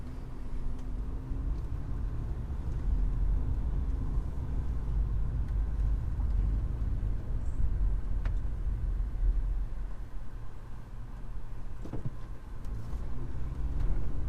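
A 2007 Toyota FJ Cruiser cruises on an open road, with a steady low engine drone and road rumble heard from inside the cabin throughout.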